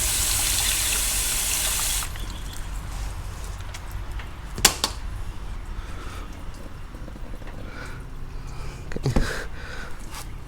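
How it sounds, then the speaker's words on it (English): Water poured from a container into a blocked drain on a Mercedes W209, a loud gushing splash for a couple of seconds, then quieter trickling and dripping with a few sharp knocks. "I'll pour some water and we'll see."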